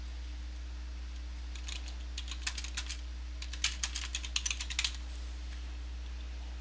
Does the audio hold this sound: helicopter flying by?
no